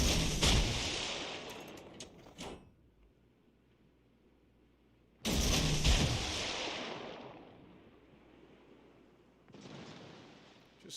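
Warship secondary guns in World of Warships Legends fire in heavy booming salvos, two big blasts with a long rumbling decay between them and a third shorter volley near the end, loud and close.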